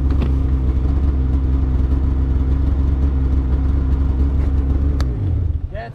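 A Polaris Khaos 9R 325 snowmobile with a stock clutch idles up close, giving a steady low rumble that holds loud and even before easing lower near the end.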